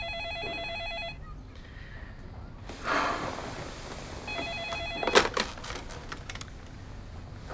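A telephone rings in a French TV drama scene, sending out a bright electronic trill that sounds twice with a pause between, along with soft rustling and a sharp clack nearby.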